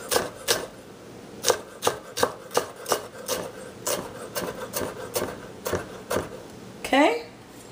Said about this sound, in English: I'm just gonna chop them